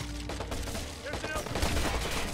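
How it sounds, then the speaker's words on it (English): Rapid bursts of gunfire in the Watch Dogs video game, loud and close, with dense overlapping shots and a game soundtrack underneath. "Wait a minute, who's shooting at me?"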